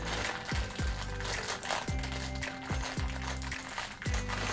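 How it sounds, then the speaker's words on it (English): Ratchet screwdriver driving a screw into a crescent moon plant stand, a close series of sharp clicking ratchet strokes in an irregular rhythm, about seven bursts, with no talking. "I'll screw in that one."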